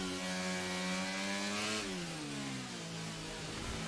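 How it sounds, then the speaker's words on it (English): A Renault-powered Formula 1 car in the racing game F1 23 screams at high revs with a steady buzzing engine note, which drops in pitch partway through as the car slows. "I think this Connor Sport is using the Renault engine."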